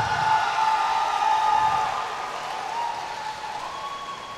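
A crowd at a cage kickboxing event claps in a sustained wash of applause that slowly fades after a couple of seconds, heard from a distance beneath a held electronic tone from the arena sound system.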